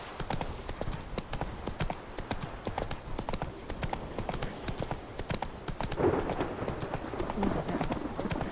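Roach galloping in The Witcher 3, crisp rapid hoofbeats pounding in a regular rhythm up close for the whole stretch, with faint game sounds underneath.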